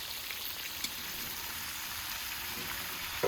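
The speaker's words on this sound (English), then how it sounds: "Now let's toss in the lamb and give it a good roast." Lamb sizzles and roasts in a pan with a steady, soft frying hiss and faint crackle, low in level and unbroken, with a couple of small clicks.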